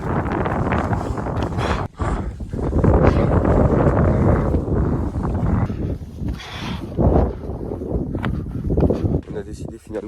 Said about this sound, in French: Il y a beaucoup de vent, il fait vraiment froid